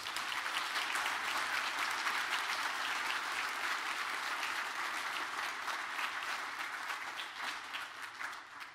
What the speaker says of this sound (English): How about a huge round of applause for all of the volunteers?